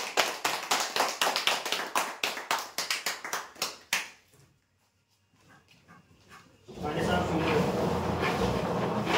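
Applause for a prize draw winner starts as quick, rhythmic, close claps that fade into near silence, then a louder broad wash of sound follows, probably talk or a crowd.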